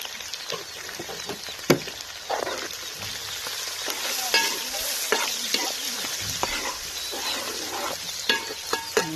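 Amaranth leaves frying in a pan, a steady soft sizzle broken by repeated scraping and clicking stirs, close and fairly quiet, with no talking.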